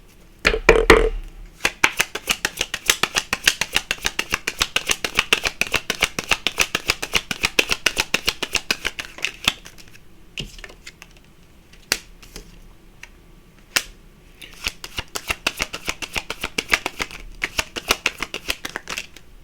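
Tarot cards being shuffled in a long run of quick, crisp riffling flicks, close and fairly loud, pausing briefly midway before the rapid shuffling resumes, with no talking.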